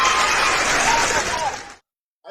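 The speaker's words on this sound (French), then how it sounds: "Applaudissez pour Aïcha." Applause for Aïcha at a gathering, loud and dense clapping that fills nearly two seconds, then cuts out suddenly, with a short burst returning at the very end.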